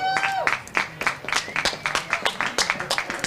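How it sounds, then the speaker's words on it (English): A crowd at a high school baseball game gives a player a warm round of applause, a brisk patter of many hands clapping at moderate distance, with a whistle-like tone near the start. "Fisher gets a nice hand from the crowd here"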